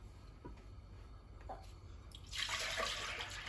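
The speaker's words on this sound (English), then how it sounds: "Go ahead, Judy, pour the milk in." Milk is poured into a cooking pot for hot chocolate, with a few faint kitchen clinks before a steady, close liquid pour starts partway through and continues to the end.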